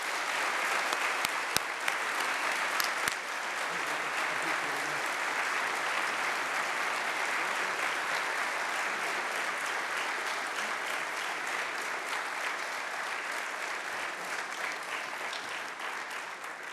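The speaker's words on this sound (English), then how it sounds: "give one more round of applause for two motivating" Sustained audience applause at a college chapel talk at Wabash, steady and dense for the full stretch, with a few louder individual claps near the start and no voices over it.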